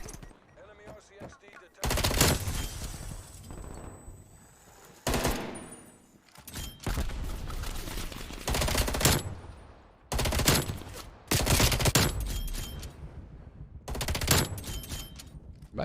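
Call of Duty gunfire in repeated loud bursts of rapid automatic shots, separated by short quieter gaps with faint talk between volleys.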